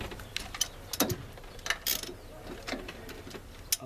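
A hand ratchet fitted with a 13 mm socket works a bolt on a 1996 Ford Ranger during a timing belt change, giving quiet, irregular clicking and metallic ticks in short bursts with faint handling noise and no talking.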